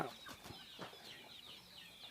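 Backyard chickens kept as breeding hens with their chicks cluck in short, faint bursts against quiet outdoor ambience, with high chirping calls scattered across the clip.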